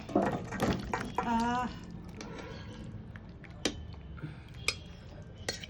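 Cooked jackfruit curry poured into a serving dish, giving wet squishy slops and soft clinks of metal on the pan, fairly faint, with a voice talking over it.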